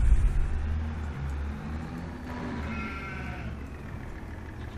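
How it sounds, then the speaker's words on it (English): Sheep and goats in the Farming Simulator 25 video game give a few drawn-out bleats over a steady, low, rumbling background hum. No one speaks. "Sheeps and goats and..."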